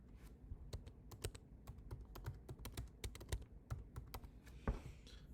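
Quick, crisp keystrokes on a computer keyboard, close and fairly quiet, tapping in a rapid irregular rhythm throughout.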